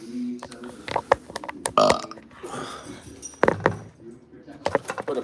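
Loud, close burps rise among clattering, clinking household noises and jangling sounds, with people talking intermittently around them.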